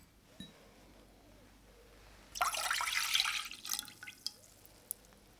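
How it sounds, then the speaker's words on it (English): Milk pours steadily for about a second and a half, splashing into a saucepan, then tapers off into a few drips and light clinks. "pour the milk into a saucepan."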